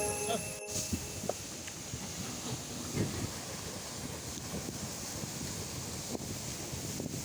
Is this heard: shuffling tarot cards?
no